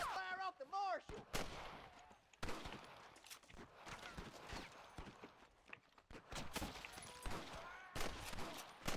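Gunfire from a Red Dead Redemption shootout, with loud rapid shots in irregular bursts and volleys that crack close by, broken by short pauses and a few distant reports.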